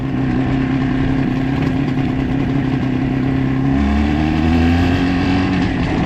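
An IZh Jupiter 4 motorcycle engine running loud and close, holding a steady droning note that shifts upward as it revs, with no voices over it.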